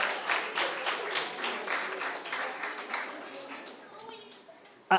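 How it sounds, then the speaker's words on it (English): An audience applauds Team Jamaica Information Service at a debate, a steady patter of clapping that gradually thins and fades over several seconds, with some voices mixed in. "let me get a strong round of applause for Team Jamaica Information Service"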